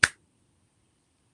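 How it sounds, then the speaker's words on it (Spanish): A single crisp finger snap, close and loud, followed by near silence with a faint low room hum. "un chasquido"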